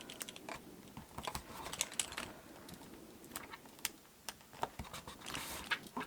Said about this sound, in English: I'll have a bit more tape on here.